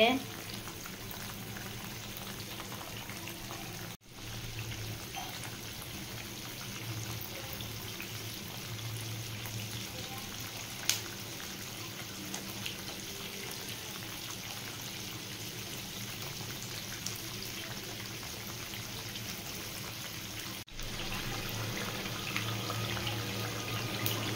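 Butter simmering down into ghee in a pan: a steady, even crackle and sizzle of bubbling fat, close and continuous, with faint speech in places.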